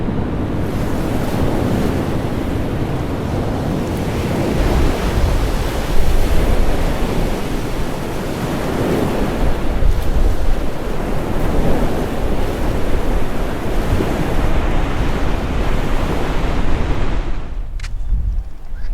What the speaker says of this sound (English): I'm down at the river right near the beach where we've got these big swells happening